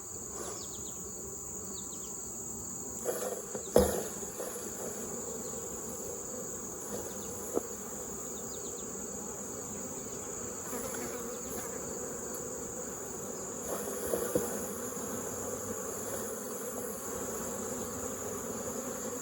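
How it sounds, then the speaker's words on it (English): A dense, steady drone of many honey bees buzzing close by inside a hive during a varroa mite alcohol wash test fills the whole stretch, with a few faint bumps and knocks underneath. "So hopefully you guys can see we got lots of bees in here."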